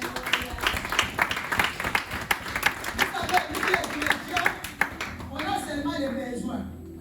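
A church congregation claps in praise during a French-language sermon, a steady scattered applause that fades out near the end, with talk heard throughout.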